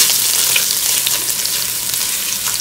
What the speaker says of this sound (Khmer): បំពងឲ្យឡើងក្រហម